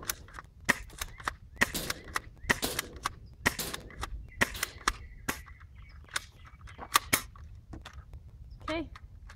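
Airsoft Franchi SPAS-12 shotgun fired repeatedly in a shooting test, giving sharp, snappy cracks at an irregular pace with short gaps between shots, fairly close and loud over faint background noise.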